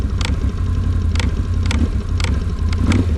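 A Can-Am Renegade 1000 ATV engine takes a little throttle, a steady low rumble with periodic mechanical clicks running through it, loud and close, with no voices.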